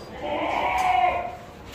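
A healthy six-tooth male goat with pink skin gives one drawn-out, wavering bleat lasting about a second at a goat farm. It is loud and close.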